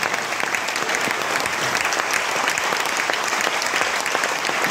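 Concert crowd applauding at the Jazz And Blues Festival 2023 after a set, a dense, loud, sustained wash of clapping from a large audience, with no voices.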